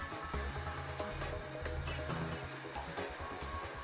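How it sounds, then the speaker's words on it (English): A BDS AutoCUT 500 plate bevelling machine mills the edge of steel plate with a loud, steady motor roar and a grinding whine that stays continuous throughout, with no talk. "As soon as a slight milling noise is heard"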